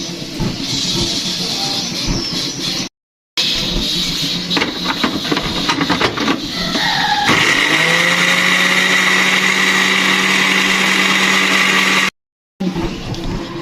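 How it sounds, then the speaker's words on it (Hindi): An electric grinder whirs while grinding homemade chaat masala spices: a steady, loud motor drone that shifts to a higher, smoother pitch partway through, with two brief cuts of silence. "तो इसको भी थोड़ा सा ना करते हैं ग्राइंड।"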